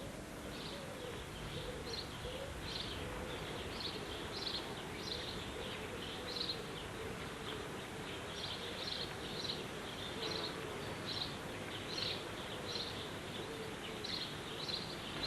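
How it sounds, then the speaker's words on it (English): Bird noises added to a student-made animated film, a faint string of repeated chirps and calls over a steady hiss, evenly spaced throughout. "We've just added a few bird noises."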